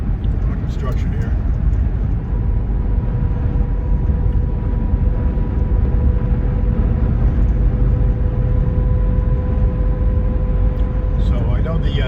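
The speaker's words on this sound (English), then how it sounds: "So I know this truck is noisy." A noisy truck is driving down the road, its engine and tyre noise blending into a loud, continuous low rumble that stays steady throughout.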